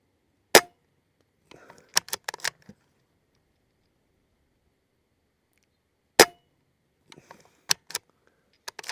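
A Gamo Arrow Classic .22 air rifle fired outdoors at a 50-yard target gives two sharp, isolated cracks several seconds apart, each followed by a few fainter clicks and knocks, in an otherwise quiet setting.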